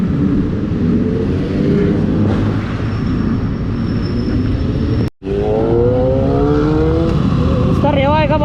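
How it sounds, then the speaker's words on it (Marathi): Kawasaki Z900 and Z800 motorcycles revving, loud engines rising and falling in pitch with one sharp cut partway through and fresh rising revs afterward. "नुसता आवाज गाड्यांचा."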